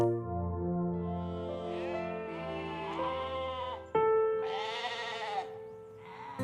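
Sheep bleat in a dramatized audio Bible scene, several wavering, tremulous calls overlapping at close to moderate distance, with a louder bleat breaking in near the middle and another trailing off at the end, over soft ambient backing.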